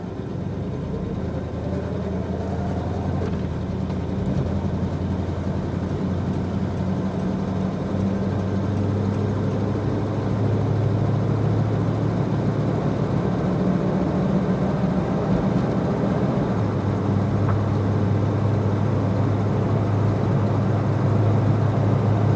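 A 1965 Ford Ranchero with drum brakes pulls away and accelerates, its engine a steady low rumble that swells in loudness partway through and holds a constant drone, with no talk over it.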